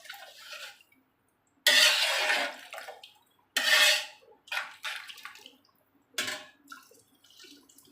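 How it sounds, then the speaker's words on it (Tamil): Water splashes and pours into a pot of mutton biryani in a few separate bursts, with quieter drips and clinks between them, close by. "தண்ணியை நல்லா ஊற்றிட்டு"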